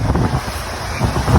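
Ocean waves and gusting wind on a Zambales beach at San Narciso, a steady low roar of surf with wind buffeting the microphone, swelling near the start and again toward the end.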